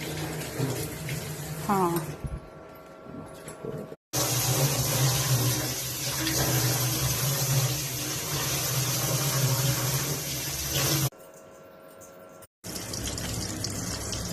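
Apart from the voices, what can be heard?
water running while washing fish pieces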